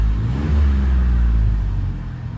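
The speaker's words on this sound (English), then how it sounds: "Now if I put it in neutral and I rev it" Chevy K1500 pickup truck engine revving in neutral, a loud, steady low rumble close by that holds for a couple of seconds and eases slightly toward the end, with no talking.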